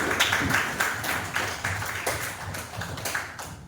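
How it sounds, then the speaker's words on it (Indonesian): Classmates clap for a student in a classroom, a steady patter of hand claps with periodic louder bursts continuing throughout, fairly close and moderately loud. "Tepuk tangan untuk Nabila."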